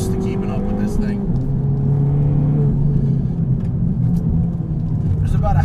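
A tuned Ford Fiesta ST accelerating and shifting on a twisty road, its engine a loud steady drone from inside the cabin that dips briefly between gears, with someone talking over it.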